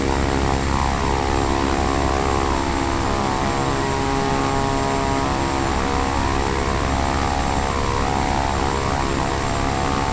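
Steady, loud aircraft engine drone from a propeller plane on approach in Flight Simulator X, a constant dense roar with a steady hum and no pauses, filling the whole stretch.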